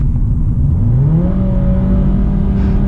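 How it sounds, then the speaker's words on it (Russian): A Renault Logan Stepway with a CVT gearbox, revved in neutral, its engine note climbing steadily to a sustained high-rpm drone, loud and close, with no talking. "Он зависает на красной отметке 5500 и потом как бы нехотя докручивает мотор"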